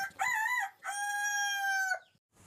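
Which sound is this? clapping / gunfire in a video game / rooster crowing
rooster crowing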